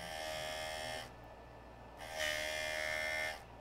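A JOOLTOOL lapidary machine grinds a sapphire cabochon, a steady electric whine and buzz in two bursts separated by a brief quieter pause, fairly faint and close.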